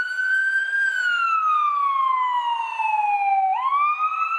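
An ambulance siren wails on a Baltimore street, sweeping slowly downward in pitch, then jumping back up and beginning another sweep, loud and fairly close.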